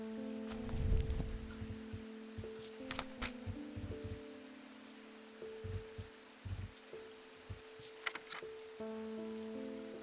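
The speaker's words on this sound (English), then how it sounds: "Your rain chime." A rain chime trinket in the video game Strange Antiquities gives off soft patter and delicate chiming tones over a quiet sustained musical bed, drops and tinkles scattered irregularly throughout.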